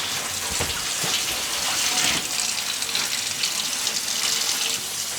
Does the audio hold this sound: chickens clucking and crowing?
no